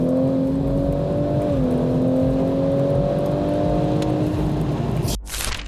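A BMW M240's engine drones steadily near and loud, pitch dipping once as the gearbox shifts, then rising gradually before cutting off abruptly near the end.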